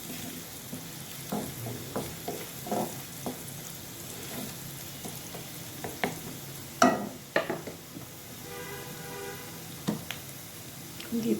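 Potato and bitter gourd frying in a pan with turmeric, cumin and coriander powder, stirred with scattered scrapes and clacks over a steady sizzle, close by.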